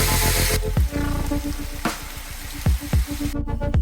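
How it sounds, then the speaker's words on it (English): Beef rouladen rolls filled with onion sizzle loudly in a hot pan as they are stir-fried to brown on all sides, with a steady crackle broken by a few clacks of the rolls being turned. "Stir-fry the rolls from all sides until brown."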